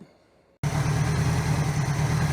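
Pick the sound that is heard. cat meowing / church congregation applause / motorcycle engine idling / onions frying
motorcycle engine idling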